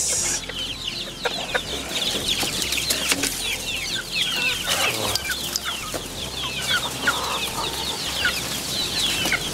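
Native free-range chickens roaming a spacious mango orchard, with steady clucking and scattered rooster-like calls, occasional wing flapping, close and continuous throughout with no talk.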